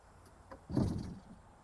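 A single dull mechanical thump and rumble as a heavy bus emergency door is pulled open by hand, with a faint click just before it.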